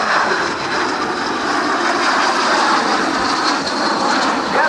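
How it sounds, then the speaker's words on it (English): A pair of L-39 Albatross jets take off for a formation demonstration at the 2008 NAS Oceana airshow on a windy day, a loud, steady roar of jet engines that fills the scene without a break. "Let's take a look as these airplanes take off for a formation demonstration."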